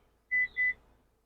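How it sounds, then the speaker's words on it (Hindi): A Suzuki Victoris car's buzzer gives two short, clean electronic beeps in quick succession, clear and close against near silence. "बजर तो बजा"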